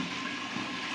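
Mustard oil in a pan hissing and sizzling steadily right after a little water is poured in, a dense, close, continuous bubbling crackle with no talk.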